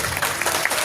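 Brief burst of loud, dense clapping from an audience at a Shrimad Bhagwat Katha religious discourse at a resort in Jammu, with no speech over it.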